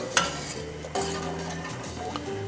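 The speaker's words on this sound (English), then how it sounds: "Just give it a stir." A spoon stirs about a pound of pasta noodles in a pot of salted water, giving a few scraping, clinking strokes against the metal over a low background hum, with no talk.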